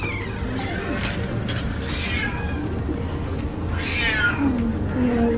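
Cats meow repeatedly in a room, several rising and falling calls over a steady background hum, with a voice talking faintly at times.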